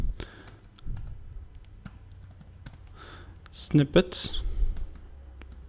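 Computer keyboard typing while coding, scattered quick key clicks at close range, soft and irregular, with someone speaking over them and a denser flurry of taps toward the end.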